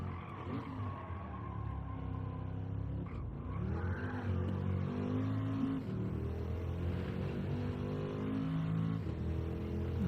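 A race car engine in Gran Turismo 7 during a Daily Race B qualifying lap, droning loudly and continuously with shifting revs and gear changes throughout, with no voices.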